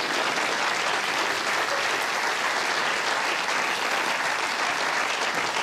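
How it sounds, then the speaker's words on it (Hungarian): A crowd applauds a stage act with steady, dense clapping. The applause holds an even loudness from start to finish and sounds near and full, with no talk over it. "tapsoljuk meg!"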